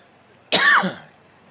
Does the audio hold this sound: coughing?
yes